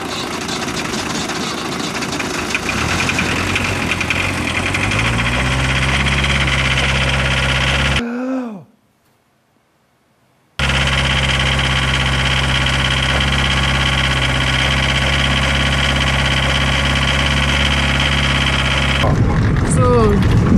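Motorhome engine cranking and catching after a jump start on an island, settling into a steady rumbling idle; the sound cuts out briefly midway, then the idle resumes, with vibration throughout.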